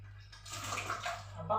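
Water is poured into sugar melting in a pan for caramel, a soft, close splashing trickle over a low background hum.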